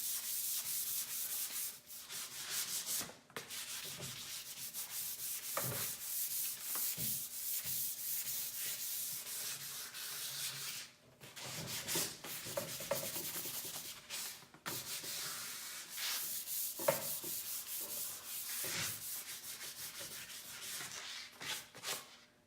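Painted furniture is sanded by hand to distress it, a continuous raspy rubbing of sandpaper over wood in long strokes with short pauses, close and fairly quiet with no talking.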